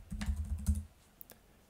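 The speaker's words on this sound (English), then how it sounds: "The first thing we're going to do after the installation is just type MDtool and press enter." A command is typed on a computer keyboard for motor-controller setup software: a quick, close burst of key presses lasting under a second, followed by near silence with a couple of faint ticks.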